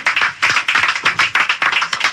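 An audience claps in a quick, rhythmic patter, a loud and close burst of hands beating in steady pulses with no voices over it.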